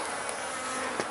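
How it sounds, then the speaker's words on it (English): Honeybees from a package being hived swarm close around the beekeeper, a dense, continuous buzzing hum that fills the whole moment with a brief swell near the end, no talking. "They're buzzing me a lot"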